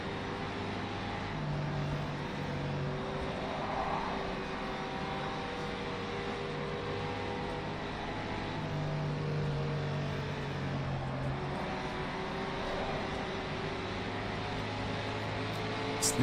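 Racing cars driven hard the way 1954 races were run give off a continuous, loud engine drone, its pitch rising and falling as the cars work through gears, with no voices.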